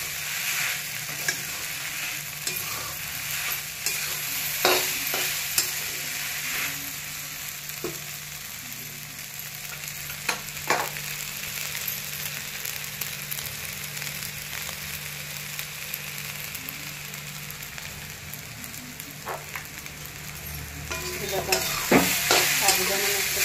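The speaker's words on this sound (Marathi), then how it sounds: "साबुदाणा मस्त परतत आलेला आहे।" Tapioca pearls (sabudana) with green chillies and peanuts sautéing in a pan for fasting khichdi, a steady soft sizzle with scraping stir strokes throughout, louder toward the end, no talking.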